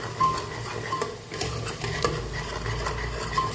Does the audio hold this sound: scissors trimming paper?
no